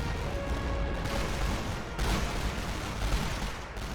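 Rifle fire in the Great War Western Front game rolls in as a dense, distant battlefield rumble, with scattered muffled shots and booms blending into constant noise.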